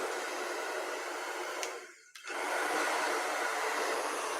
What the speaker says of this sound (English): I got my blow dryer here.